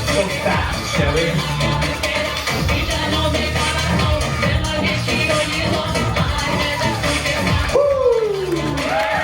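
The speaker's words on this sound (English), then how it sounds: "Give him a big round of applause" An audience at a cruise ship show aboard the Carnival Miracle claps and cheers, with whoops and crowd noise over music, while a performer talks intermittently.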